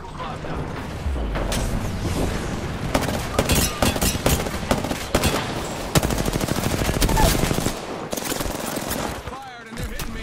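Rapid automatic gunfire rattles in a sci-fi shooter video game, dense bursts of shots and mechanical clatter hitting the player, loud and continuous with brief pauses.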